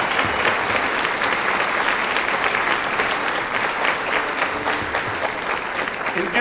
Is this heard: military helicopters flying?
no